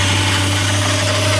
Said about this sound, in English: Engine runs good though.